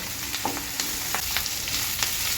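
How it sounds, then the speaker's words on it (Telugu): Bitter gourd pieces frying with onion, coriander and curry leaves, giving a loud, steady sizzling hiss with a few light stirring scrapes close by. "కాకరకాయ ముక్కలతో పాటు ఆనియన్ కొత్తిమీర కరివేపాకు అవి కూడా ఫ్రై అవుతాయి"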